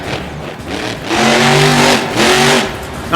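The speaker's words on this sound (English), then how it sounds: "He turns that truck on and he's just going." A monster truck engine in BeamNG, at a Monster Jam show in Grand Rapids, Michigan, revs hard and loud in two surging bursts, its roar rising and falling close up.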